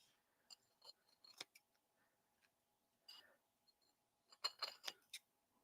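Scissors trimming a paper photo slate: a quiet, close series of crisp snips in short clusters with brief pauses between them.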